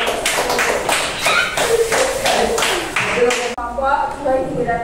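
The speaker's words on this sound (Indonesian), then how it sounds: "Ayo beri tepuk tangan buat kelompok 1." Classroom applause for the first student group: a burst of many hands clapping steadily for several seconds, then tapering into lighter scattered claps with children's voices chattering underneath.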